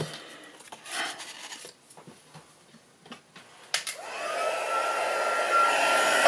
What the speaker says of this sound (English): At least my heat gun will be hot.